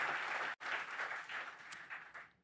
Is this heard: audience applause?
yes